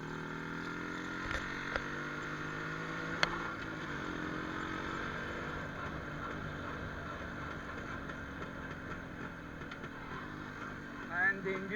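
A 1985 Yezdi motorcycle engine drones steadily while being ridden on an open road, with a continuous close, loud hum and brief shifts in pitch along the way.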